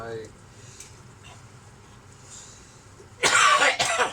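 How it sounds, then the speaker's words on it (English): After a stretch of quiet room noise, someone coughs loudly and harshly, two bursts close together near the end. "I've got a bit of a cough going on at the moment"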